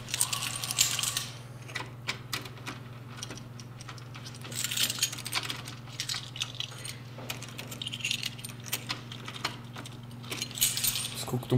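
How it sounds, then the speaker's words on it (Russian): Keys jingle and clink intermittently at a door lock, close and fairly quiet, over a low steady hum. "Замок поменяли, до сих пор парюсь с ключами."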